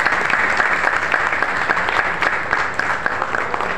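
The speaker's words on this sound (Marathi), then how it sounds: "टाळ्या थांबल्या नाही पाहिजे" Sustained applause from an audience at a women's association stage event, a steady dense clapping close up that carries evenly through the whole stretch.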